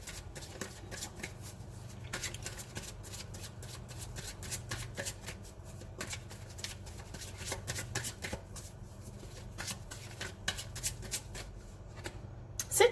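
Tarot cards are shuffled by hand in a quiet room, a long run of rapid, riffling flicks and soft slaps. The pace shifts in uneven bursts, close and fairly faint, with no talk.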